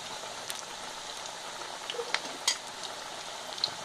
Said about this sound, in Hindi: अब हम इन्हें गोल्डन ब्राउन होने तक इन्हें फ्राई कर लेंगे।